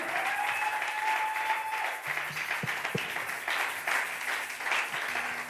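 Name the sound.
congregation applauding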